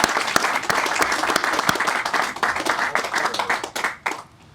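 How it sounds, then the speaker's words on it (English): An audience at an apartment funding announcement claps briskly, with sharp individual claps over a steady patter that tapers off and stops near the end. "You really deserve a big round of applause."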